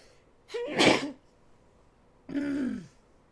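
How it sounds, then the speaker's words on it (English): A wet, explosive sneeze with a sharp intake of breath, followed after a pause by a shorter second burst, close to the microphone. "I'm about to sneeze."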